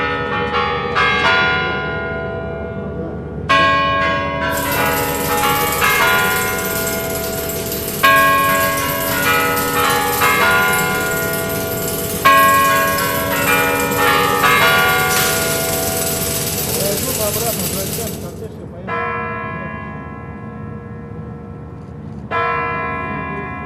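Kremlin clock bells ring out in a long series of loud, resonant chimes with overlapping strikes, struck again every few seconds and leaving a rich sustained tone between hits.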